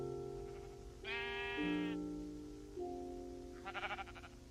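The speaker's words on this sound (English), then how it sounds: "So many sheep." Two sheep bleats in the Minecraft video game, one drawn-out harmonic bleat and a shorter wavering one later, heard over steady game background music with no speech.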